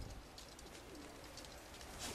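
Pigeons kept by a dove breeder coo softly in the distance, a faint low warbling under steady ambient background noise.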